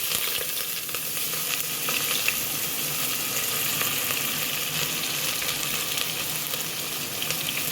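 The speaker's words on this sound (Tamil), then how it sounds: "வெங்காயம் போட்டுக்கலாம்" Onions hit hot oil already seasoned with cinnamon, cloves, cardamom and star anise for a dhalcha kuzhambu. A dense, even sizzle stays loud and close throughout, with faint stirring beneath it.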